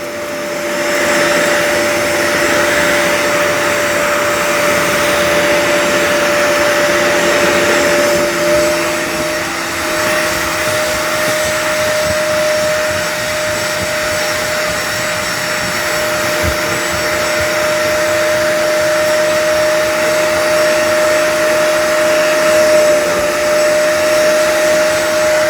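A Bissell Little Green carpet cleaner vacuums loudly and continuously, a steady high whine with a whooshing roar that shifts slightly as it moves back and forth.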